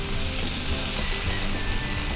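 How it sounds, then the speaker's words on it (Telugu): Tomato pieces sizzle in hot oil in a pan, a steady close crackling hiss that runs unbroken and evenly loud throughout, with no voices. "ఈ టమాటాలు కొంచెం వేగనివ్వాలి."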